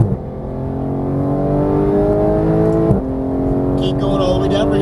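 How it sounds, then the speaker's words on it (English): Porsche GT3 accelerating out of a turn on a track with cones, its engine a loud, steady rising drone from inside the cabin, a brief dip near the middle as it shifts, then pulling on. "Now we're going to go ahead and accelerate out."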